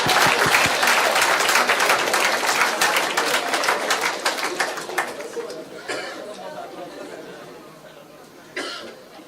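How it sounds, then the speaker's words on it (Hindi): An audience at a business talk breaks into loud, rapid applause that gradually thins out and fades, with a short final burst of clapping near the end. "देखो, चलो ताली बजाओ आपके लिए सब।"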